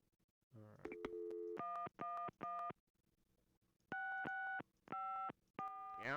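A telephone is dialed in the video game Gabriel Knight: Sins of the Fathers. Clean electronic keypad tones come in quick, evenly spaced beeps, with a short pause partway through the number.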